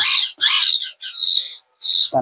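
Young myna birds give four loud, harsh calls at close range, each lasting about half a second and separated by short silences.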